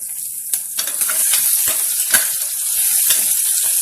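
Onions, green chillies and curry leaves sizzle in hot oil in a pan, with a steady bright crackle and a few sharp pops and stirring clicks, close and without any talking.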